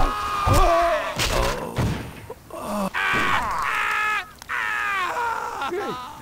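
In the Stubbs the Zombie video game, a crow caws repeatedly amid thumps, groaning and other game noise, the harsh calls recurring across the whole stretch at a fairly loud level.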